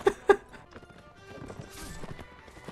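Horse hooves clip-clop and a horse whinnies in the medieval combat video game Mount and Blade: Warband, two sharp loud hoof hits at the start followed by busier battle noise and mixed game sounds.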